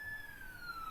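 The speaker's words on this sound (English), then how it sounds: "I don't know if you can hear the sirens, but there are sirens going on." Sirens from a police car and an ambulance sound outside. A faint, distant wail holds steady and drifts slowly downward in pitch over quiet background noise.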